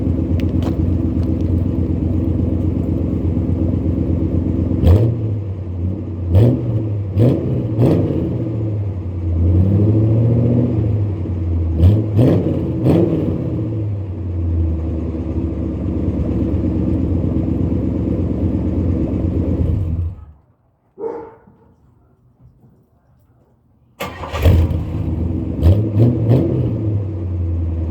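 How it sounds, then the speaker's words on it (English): An older car with dual FX mufflers revs repeatedly as the gas is hit, deep rumbling bursts rising and falling over an idle, then falls silent briefly and restarts with more throttle blips. "That's the sound of it when you hit the gas."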